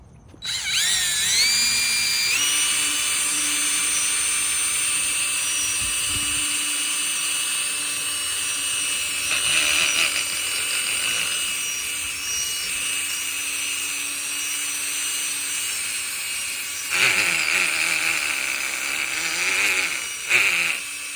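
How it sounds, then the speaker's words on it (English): A handheld electric drill fitted with a polishing pad runs steadily and loudly while waxing a car, its whine holding near-constant with brief dips and surges in pitch as pressure on the bodywork changes. "let the drill do its own thing right in front of you"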